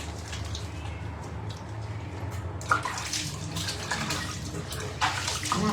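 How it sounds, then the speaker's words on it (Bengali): Tap water runs steadily as hands are washed beneath it indoors, a soft continuous splashing with brief louder splashes as the hands move through the stream. "হাতটাকে ধুয়ে নিচ্ছি"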